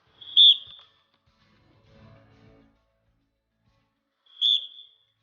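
A drill whistle blown during a BSF jawans' exercise routine at the Attari-Wagah border: two short, sharp, shrill blasts about four seconds apart, with a faint low murmur between them.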